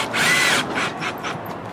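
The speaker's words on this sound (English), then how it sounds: "we're going to put another screw in" A power drill whirs for about half a second while driving a screw into the nail fin of a window being installed with buttered sealant, then eases off into a few fainter, shorter bursts.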